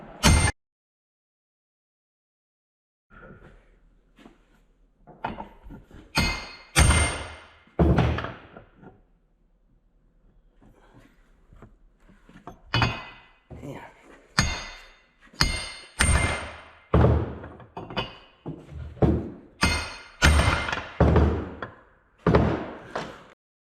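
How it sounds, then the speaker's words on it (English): Hammer blows on a 30 mm socket to drive out a seized wheel bearing on a Dodge Ram 4x4, a long run of loud, close metallic thunks, sparse at first, then quickening into a steady rhythmic pounding. "maybe hit it with some pounding. See if I can knock that loose."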